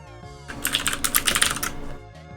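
Very loud, frantic typing on a computer keyboard: a dense burst of rapid keystrokes for about a second, with lighter scattered taps before and after.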